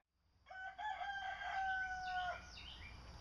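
A rooster crows once in a full, drawn-out cock-a-doodle-doo, loud and close, rising and holding before trailing off, in a quiet outdoor setting.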